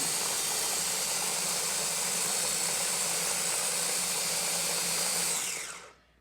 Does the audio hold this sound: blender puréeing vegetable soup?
yes